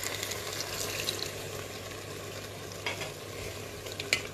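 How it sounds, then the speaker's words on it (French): Tomato paste being stirred into boiling water in a pot, with a steady low hiss and scraping spoon strokes, plus a few sharper clinks near the end; no voices. "On mélange bien le tout."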